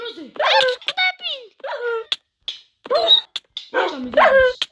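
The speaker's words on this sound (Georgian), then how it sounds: "ვაიმე ძაღლი." A small dog yips and barks in quick, excited bursts close by, with whimpering between barks and a person's voice mixed in.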